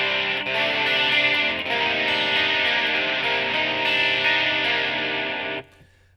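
Electric guitar played through an effects unit with heavy distortion, sounding as a sustained, thick, saturated chord held loudly and steadily for several seconds before cutting off abruptly near the end.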